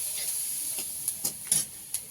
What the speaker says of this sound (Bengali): তেলে একটু পেঁয়াজ ফোড়ন দিয়ে দিলাম